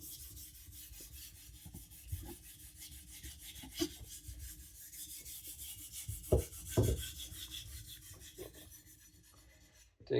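A knife blade rubs in steady strokes across a diamond sharpening plate, producing a faint, continuous rasping scrape with a few louder scrapes near the end and no voices.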